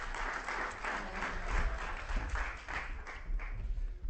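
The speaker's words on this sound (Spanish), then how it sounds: "un aplauso también para Javi" Studio audience on a television set claps in a brief round of applause, moderately close, fairly even clapping that rises slightly midway and then tapers, with no speech over it.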